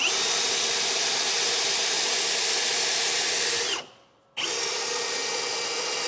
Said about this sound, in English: we're going to take our step bit and drill it out just like the ones for the rear rail